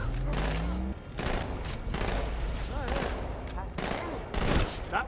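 SMG fire in the video game Halo 2, rapid automatic bursts repeating throughout with booming impacts, fairly loud, with a voice talking briefly over the shooting.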